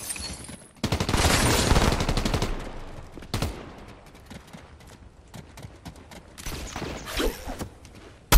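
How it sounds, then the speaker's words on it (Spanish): Shotgun blasts in the Fortnite video game, with sharp broadband bursts and rapid firing clustered early, then scattered fainter shots and game effects over the rest. "Es una escopeta."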